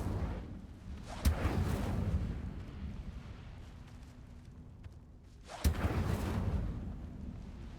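Two fiery bursts of the Incendio spell in Hogwarts Legacy, each a sudden whooshing blast that rumbles and fades, spaced a few seconds apart over a low ambient bed.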